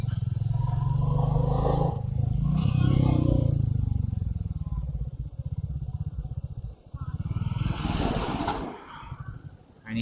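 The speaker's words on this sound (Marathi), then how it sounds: "तरी हा खूप मोठा ट्रॅफिकचा पॅच होता." Motorcycles and other traffic crawl along a congested highway on a weekend ride to Alibag, with a steady close engine rumble, passing revs and clatter throughout and a louder vehicle surging past near the end.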